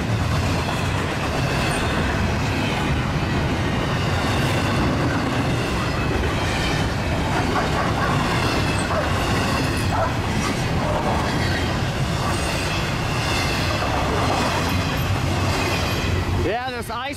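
Union Pacific freight trains, including priority trains and a mixed freight, rumbling past close by in icy fog, a continuous loud roar of wheels and rail clatter with squeals, steady throughout.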